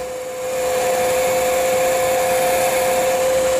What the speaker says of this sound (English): I have a heat gun, it's kind of a low temperature heat gun